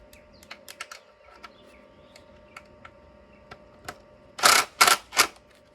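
Tightening a nut with a washer on vinyl above-ground pool steps: sparse, sharp metallic clicks, then a few loud, rasping bursts close by near the end, with no talking.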